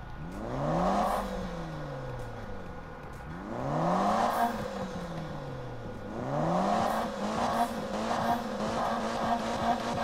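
A Mitsubishi Evo engine in Need for Speed (2015) revs up hard in three repeated surges, each climbing in pitch and then dropping as it shifts or lifts off. The engine note is loud and close, with a whine and tire noise underneath.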